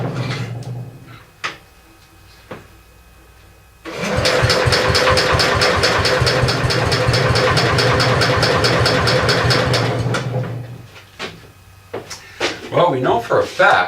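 An engine sputters to life and runs with a rapid, knocking chug for about six seconds before cutting out. Scattered clanks and handling noises come before and after.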